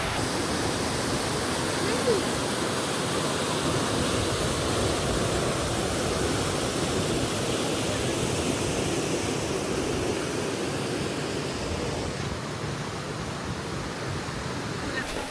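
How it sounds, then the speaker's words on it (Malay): A waterfall near Cameron in Malaysia pours as a continuous dense roar, steady and fairly loud for the whole stretch, with faint voices underneath. "Oh, ada air terjun."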